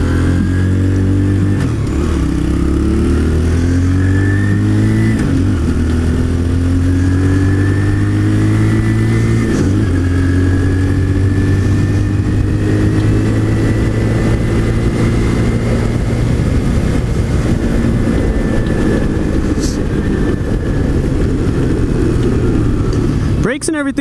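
A Chinese motorcycle bought from Amazon is ridden and accelerated, its mid-pitched engine rising through gears with steady revving and dips between shifts, wind rushing loudly throughout.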